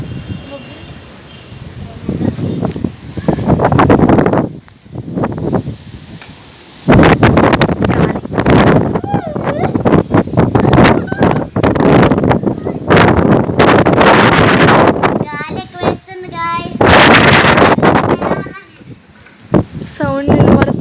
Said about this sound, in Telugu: ఈ మబ్బు మొత్తం ఒక్క దగ్గరికి వచ్చి ఫుల్ గాలి ఏదో సౌండ్ వినబడుతుంది.